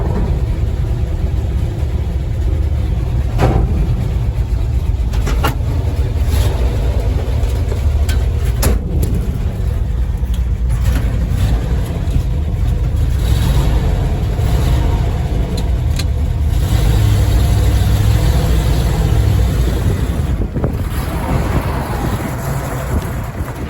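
A 1959 Ford F100 pickup's engine idles steadily after firing up, its low broadband rumble loud and continuous throughout with some wind buffeting the microphone.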